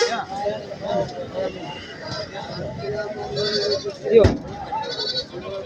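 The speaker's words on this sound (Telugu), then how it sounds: "నల్ల మేకలు" Several goats bleat intermittently, fairly close, over a background of people talking, with a sharp knock partway through.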